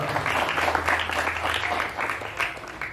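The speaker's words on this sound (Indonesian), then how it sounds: "Tepuk tangan untuk beliau ini dulu" Applause from an audience at an evening commemorative gathering, a dense steady wash of clapping lasting throughout with no pauses.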